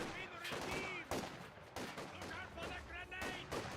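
Penal squad rifle fire in the real-time strategy game Company of Heroes 2, a quick run of crackling gunshots and bursts mixed under a commentator's steady talk.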